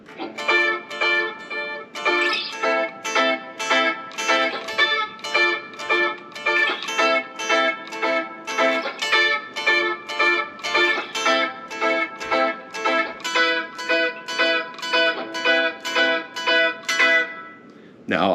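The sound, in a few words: guitar riff played slowly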